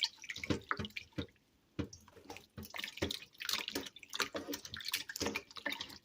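Raw-cream butter being washed by hand in a bowl of water, with repeated close wet squelches, drips and splashes in irregular bursts and a short quiet gap near the start.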